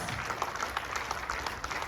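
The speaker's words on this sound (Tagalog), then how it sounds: "Palakpakan natin yung palakpak para sa nagmamahal na Diyos" A church congregation claps in praise of God, a short burst of steady, moderately loud applause from many people with distinct claps throughout.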